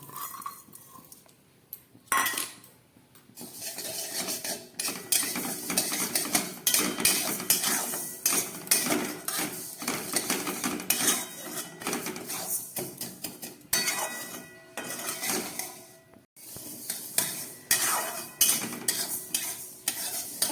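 Moong dal dry-roasting in a kadai over a very low gas flame, continuous scraping and stirring with clinks of a spoon against metal and a faint sizzle underneath, close and busy throughout.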